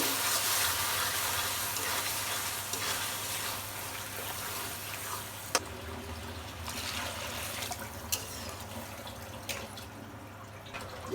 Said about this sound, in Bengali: এবার আমি পানি দিয়ে দেবো।